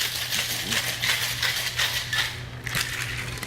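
Ice rattles rhythmically inside a cocktail tin in a brisk shake, the steady rattle running close and continuous with no talking over it.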